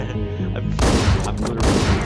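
Shotgun blasts in the video game Hotline Miami 2, a sudden loud burst of gunfire erupting after a quieter stretch of game music, with rapid overlapping shots and booms packed closely together.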